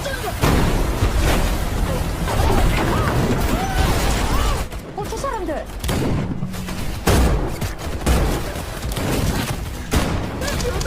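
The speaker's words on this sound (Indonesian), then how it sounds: "Dan terjadilah baku tembak antara mereka." Film gunfight with rapid bursts of gunfire and booming impacts under a dense, loud mix of music and effects, with short lulls between volleys.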